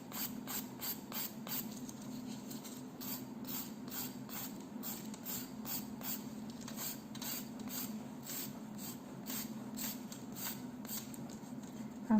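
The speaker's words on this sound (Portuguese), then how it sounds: "eu vou vir com uma lixinha aqui manual e vou passar ali só nessa marcação" A hand file buffs across a gel nail extension in steady, rapid back-and-forth strokes, a close, soft scratchy rasping that repeats evenly throughout with no talking.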